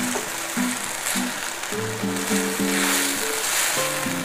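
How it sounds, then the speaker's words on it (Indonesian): Spice paste for an Indonesian egg semur sizzles and crackles steadily in a pan while being sautéed with mushrooms, a continuous close frying hiss with a faint low hum running underneath. "bumbunya ditumis-tumis sampai mengeluarkan aroma yang harum"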